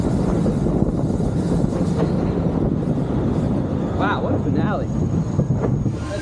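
Mine train roller coaster at Six Flags Over Texas, with steady loud rumble and wind rush of the cars on the track throughout, brief wheel squeals near the end, and voices mixed in.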